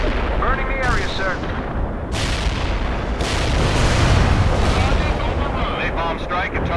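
Artillery strikes and explosions in the World in Conflict video game, a dense, continuous barrage of booming blasts and gunfire at high loudness throughout, with game voices faintly mixed in.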